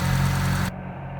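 A BMW 335i engine idles smoothly with a steady, even low hum, close and alone, its brighter upper layer dropping away partway through while the low drone carries on.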